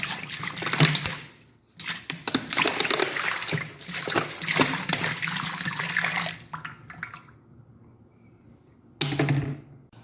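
About 1.5 litres of water pours into a pot in one long, close, steady splashing stream that stops abruptly, followed after a pause by a brief second splash, with no talk.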